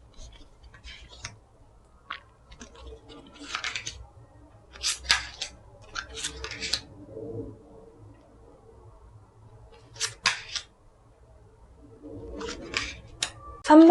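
Tarot cards laid out on a table for a weekly fortune reading make short bursts of crisp slaps and flicks, separated by quiet pauses, close to the listener.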